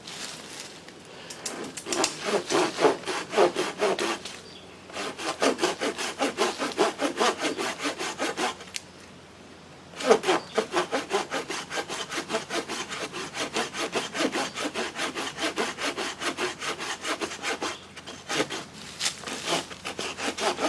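A hand saw cuts through dry cedar in loud, steady back-and-forth strokes, pausing briefly a few times before resuming at the same close, rhythmic pace.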